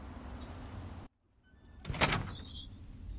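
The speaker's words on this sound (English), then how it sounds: "Unlocking outer doors." Outer doors in Fallout 3 unlock and slide open: a brief mechanical hum, an abrupt cut to near silence, then a loud hissing whoosh of the doors parting with faint tones ringing after.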